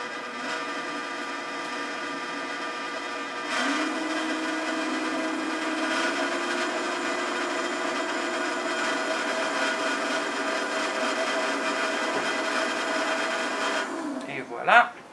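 A small peristaltic pump hums steadily, then shifts to a higher, continuous whir as it draws diluted glass soap into a bioreactor, ending with a brief clatter.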